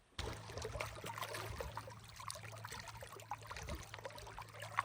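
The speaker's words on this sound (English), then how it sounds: "the sound of the water, my favorite sound in the whole wide world." A stream flowing beside the Icefields Parkway in Jasper makes a steady broadband rush of water. It runs close and continuous for the whole stretch over a low hum, with no talking.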